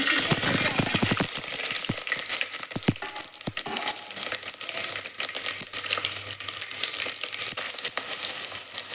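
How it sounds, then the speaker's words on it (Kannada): Mustard seeds, curry leaves and Byadagi chili hit hot oil, crackling in a rapid burst of pops and spits before settling into a steady, close, bright sizzle. "ಇವಾಗ ನೋಡಿ ಎಣ್ಣೆ ಕಾದಿದೆ ಇವಾಗ ಎತ್ತಿಟ್ಕೊಂಡಿರೋ ಸಾಸಿವೆ ಕರಿಬೇವು ಮತ್ತು ಬ್ಯಾಡಗಿ"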